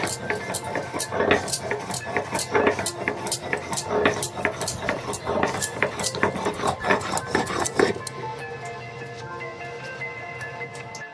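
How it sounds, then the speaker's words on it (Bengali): Rhythmic scraping strokes of black cumin ground on a stone slab with a stone, repeated briskly for several seconds, then stopping, leaving quiet background hum. "মা শিলেই বেটে নিচ্ছে"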